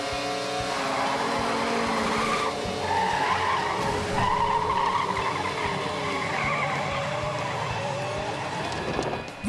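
Animated race cars skid and slide through a turn in a cartoon race, a loud continuous roar of engines and tire screech filling the whole stretch with no one talking.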